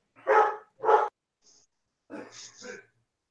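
A dog gives two sharp, close barks in quick succession, then a short pause before a softer, breathy vocal sound that may be a whimper or a brief voice.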